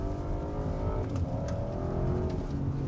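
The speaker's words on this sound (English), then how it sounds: "That's a nice sounding downshift." A 2022 Audi RS7 engine blips through a downshift, a steady close-up engine tone with rising and falling harmonics heard from inside the cabin, no talk.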